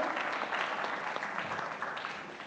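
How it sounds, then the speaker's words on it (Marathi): Applause from the audience at a children's poetry gathering of a district council literary festival, honouring the winning children, as a steady, dense wash of clapping that stays even throughout and fades slightly at the end. "त्यांच्यासाठी एकदा जोरदार टाळ्या झाल्या पाहिजेत"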